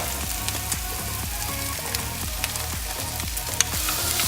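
Mushrooms and bacon fry in a pan with a loud, continuous sizzle, punctuated by regular soft thumps and scrapes of stirring, with no talk.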